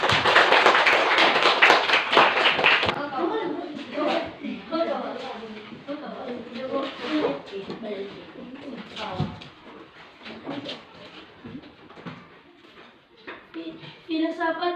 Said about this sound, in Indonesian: kita berikan aplaus kepada kelompok Moradu